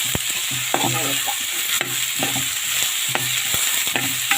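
Chopped beetroot being stirred in a hot pan for pickle, with a steady sizzle beneath repeated scraping strokes of the spoon in an even rhythm, close and fairly loud, with no voices.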